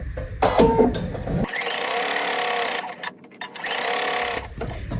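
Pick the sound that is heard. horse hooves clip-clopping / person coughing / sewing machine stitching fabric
sewing machine stitching fabric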